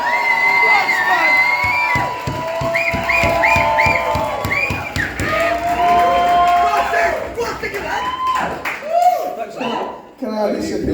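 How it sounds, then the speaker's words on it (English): A wedding crowd cheers, whoops and applauds loudly and continuously, with excited shouting voices layered through the noise. "Give a massive round of applause for Duncan."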